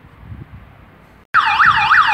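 An alarm starts suddenly at a closed county library building in Romania, a loud electronic siren with a looping rising and falling wail, cutting in after a quiet stretch of low outdoor background.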